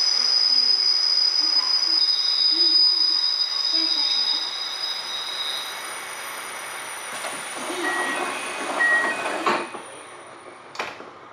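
A KiHa 261 series express train departing Sapporo rumbles and hums steadily with a high whine, its tone shifting as it moves off, followed by fainter clanks and a squeal near the end.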